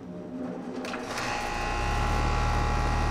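HVAC compressor starting up with a NuStart hard start kit fitted, a mechanical whir that builds into a steady low hum over a few seconds, close and fairly quiet, with no voices.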